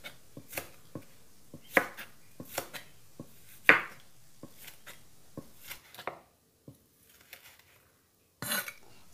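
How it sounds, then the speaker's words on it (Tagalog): A knife cuts through tomatoes on a board, each crisp chop landing as a separate tap at an irregular pace, close and fairly quiet, with a few soft clinks and pauses between strokes while sweet potato leaf salad ingredients are prepared. "ang paghiwa ng kamatis. Puro slice siya."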